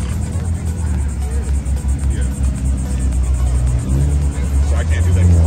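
A Ferrari FF pulls away at a Caffeine and Octane car meet in Jacksonville, Florida, its engine a steady low rumble with a slight rise in revs near the end, under crowd chatter and someone talking.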